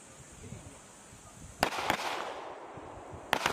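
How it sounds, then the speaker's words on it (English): Gunfire on a close-quarters battle range during a Philippine Marines reconnaissance exercise, heard as a sharp report at about 1.6 s, another just after, and a third near the end over faint outdoor background. "Start shooting."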